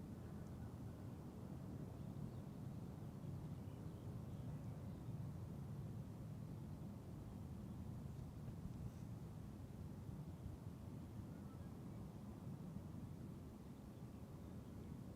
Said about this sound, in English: this is KLM flight 1352 in the meantime, number 175, arriving from Prague in the Czech Republic